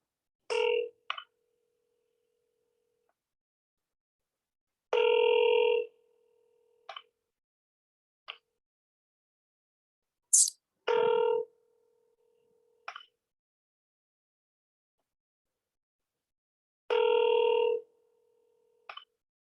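An outgoing phone call repeats its ringback tone in long, evenly spaced bursts, with short dial beeps and clicks between them, clear and close with no voices.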